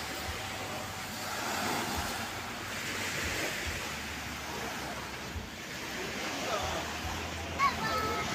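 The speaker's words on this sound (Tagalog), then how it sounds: "Kalmang-kalma yung dagat, sarap maligo." Continuous wash of calm sea waves on a beach with wind rumbling across the microphone, a broad steady surf noise throughout.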